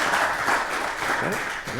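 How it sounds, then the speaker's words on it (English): A short burst of audience applause at a conference session, dense clapping heard briefly with a voice speaking over it. "Let's give a round of applause to Mark and Luca"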